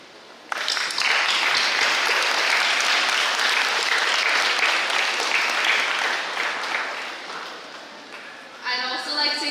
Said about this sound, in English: therefore I ask all the graduates to stand up and join me in giving them a round of applause